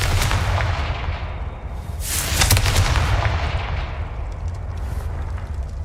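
Confringo fire spell in Hogwarts Legacy, a loud, close blast with a deep rumble that flares sharply around the middle and then rolls on in a sustained roar before trailing off.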